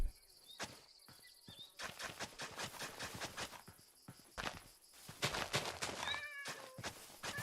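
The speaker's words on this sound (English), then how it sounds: "I hear a kitty. I did hear a kitty." Several short cat meows ring out in Minecraft amid clicky footsteps and chirping insects in a game-like outdoor soundscape, no voices.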